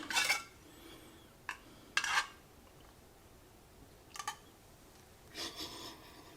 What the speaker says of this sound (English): Let's give it a little stir here.